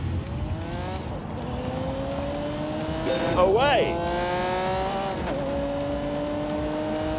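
A 1985 sports car accelerates through several gear changes with a rising engine note, and a brief tire squeal cuts in midway before it drives on steadily; a voice shouts briefly.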